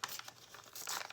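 A scrap of old book page torn by hand at an angle, a faint, close rip with light paper crinkling, heard alone for about a second.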